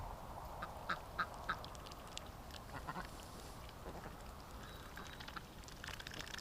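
Several ducks quack faintly in a short burst, then softer scattered calls over a steady outdoor hiss.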